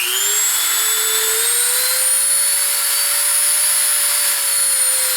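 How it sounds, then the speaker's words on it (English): A Dremel rotary tool shaves down a 1964 Impala quarter panel, a loud, continuous high-pitched whine that rises slightly in pitch and holds steady, close up with no talking. "take this Dremel and just kind of shave off what I need here"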